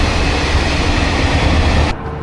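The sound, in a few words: train at a railway station in Guiyang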